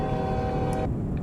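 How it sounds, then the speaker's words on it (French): Train-style air horn on a Volvo VNL 670 truck in American Truck Simulator, one loud sustained chord blast held for most of the moment over steady engine rumble, then cut off abruptly. "Il a un klaxon de train, l'engin."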